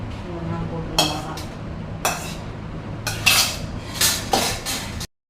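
Dried red chillies are roasted and stirred in a pan for idli podi, with a metal spoon striking and scraping the pan in about half a dozen sharp clinks over a low steady hum.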